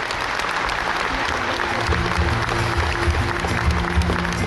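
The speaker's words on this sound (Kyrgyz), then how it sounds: "кол чабалар менен тосалыңыздар." Audience applause welcoming a speaker at a Mawlid an-Nabi gathering, a steady dense wash of many hands clapping throughout, with a low hum underneath and faint voices mixed in.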